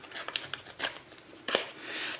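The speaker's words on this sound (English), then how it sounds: "You can do this with scissors if you don't have a distressing tool." Scissors snipping at paper or fabric to distress it for a textured mixed media background, a few short sharp cuts spaced apart, fairly close and quiet with no talking.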